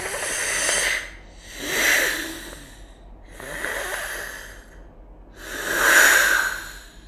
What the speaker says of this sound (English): breathing noise followed